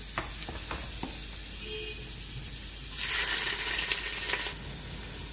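Chopped onion dropped into hot oil in a home kitchen, starting after a few small clinks with a sudden bright hiss and sizzle that lasts a second or two, then eases to a softer crackle.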